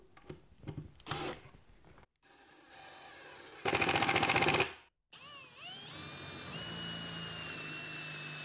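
A power drill drives a 1.5-inch screw into a pre-drilled, countersunk hole in a wooden desk drawer front, two short buzzing bursts followed by a louder sustained whine, then a pitch-shifting hum as it winds down.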